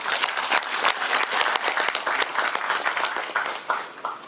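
Audience at a population policy forum applauding two absent provincial council members, with steady, dense clapping from a full room that continues throughout.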